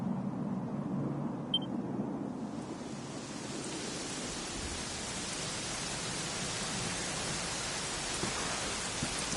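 Rain falling in Dragon Quest XI, a steady, soft hiss of rainfall that swells in after a quieter start and continues evenly, low in level with no voices.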